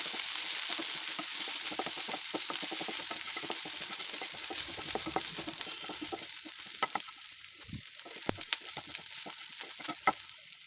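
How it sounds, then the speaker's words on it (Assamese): Garlic and onion fry in oil in a non-stick pan for spinach soup, giving a steady close sizzle with scattered crackles and stirring scrapes that ease slightly toward the end; no one talks. "নহৰু আৰু পিঁয়াজখিনি অলপ সময় ভাজি থাকিম।"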